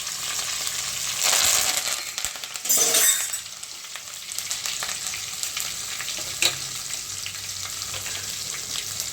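Curry leaves sizzle and crackle in hot oil already holding cloves, pepper, garlic and green chilli, with a steady frying hiss and two louder spitting bursts near the start.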